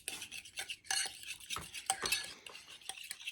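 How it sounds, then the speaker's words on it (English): Pumpkin scone batter with molasses being stirred in a bowl, a close run of quick scraping and clinking strokes with irregular rhythm and no talk. "I'm going to just give this a good stir"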